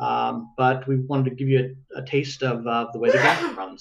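During a tabletop role-playing session of Deviant: The Renegades, one loud, close sneeze bursts out near the end, following a stretch of someone speaking.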